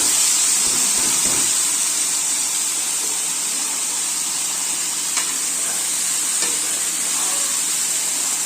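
Boiled jackfruit seasoned with chilli, turmeric and salt goes into a hot pan, giving a loud, steady sizzling hiss that holds evenly throughout, with faint stirring scrapes.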